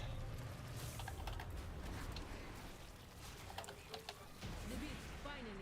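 Rapid clicking of computer keys, typing during a World of Warcraft gaming session, fairly faint and steady beneath a soft background hum, with a few louder keystrokes and scattered clatter.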